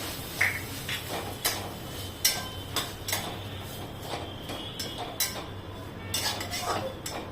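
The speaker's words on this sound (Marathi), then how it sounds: "आता आपण यामध्ये खोबरं टाकतोय खोबरं पण छान परतवून घ्यायचंय" Grated coconut stirred and sautéed in a pan with chillies and garlic for a wet pigeon pea amti: a spatula scrapes and clinks against the pan at irregular intervals, moderately close, with no talking.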